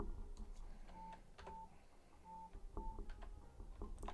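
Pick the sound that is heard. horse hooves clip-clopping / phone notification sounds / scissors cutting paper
phone notification sounds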